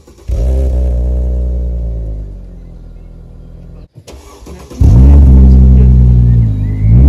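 A Mercedes C 320 V6 cranks and fires into a deep, loud idle that settles lower, cuts out briefly, then restarts with a strong rev and a rumbling, throaty exhaust held close by.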